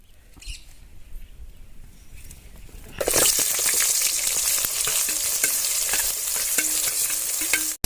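Onions dropped into hot cold-pressed sesame oil: quiet stirring first, then a sudden loud burst of sizzling that holds steady and crackling up close until it cuts off.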